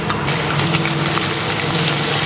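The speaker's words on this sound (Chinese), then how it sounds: "然后把我们的姜末放进去，" Minced ginger and a star anise sizzling in rendered pork fat in a wok for Beijing zhajiang noodles, a loud, close, continuous crackle and hiss without any talk.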